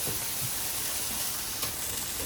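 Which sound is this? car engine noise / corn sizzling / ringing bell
corn sizzling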